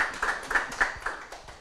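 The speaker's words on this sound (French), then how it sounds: "vous pouvez applaudir pour lui, s'il vous plaît" A small audience claps in a brief, uneven burst of several distinct hand claps at a literary gathering, moderately near and fading quickly.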